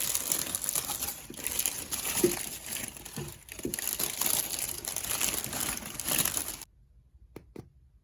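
Perforated gift paper crinkles and rustles steadily, close and fairly loud, while a luxury purchase is unboxed, then the sound stops abruptly, leaving near silence broken by a couple of faint taps.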